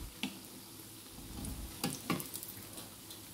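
Chicken bondas fry in hot oil as they turn golden brown, giving a steady soft sizzle with a few brief clatters of stirring or lifting, close by and with no voices.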